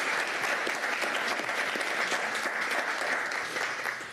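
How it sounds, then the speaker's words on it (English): An audience at a city commission meeting breaks into steady applause, dense clapping that holds at an even level for several seconds before tapering slightly at the end. "Round of applause, please."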